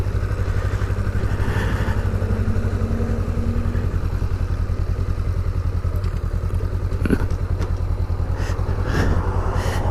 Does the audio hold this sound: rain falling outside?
no